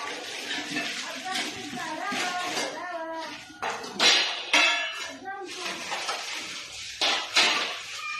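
A government-scheme set of kitchen utensils is unpacked, with repeated metallic clattering and clinks of pots and dishes in bursts while a person talks throughout.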